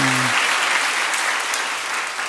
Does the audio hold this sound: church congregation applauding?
yes